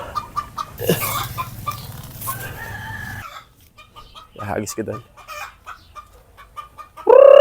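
Chickens cluck and a rooster crows nearby, mixed with brief speech and outdoor noise, ending in a loud squawk.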